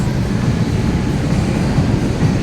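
A low, steady rumble of a light rail train rolling along the tracks, continuous and fairly loud, with no voices.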